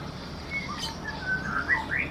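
Wild birds chirping nearby, a few short high tweets and thin whistled calls clustered toward the end over a quiet low background hum.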